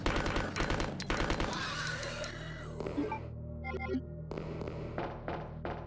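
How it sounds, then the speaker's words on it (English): Burst fire from a video game weapon, several rapid loud shot clusters in the opening seconds with a dense, booming low rumble, then scattered sharper bursts later over a steady game background. "Just gonna walk up to it, aim down, burst fire."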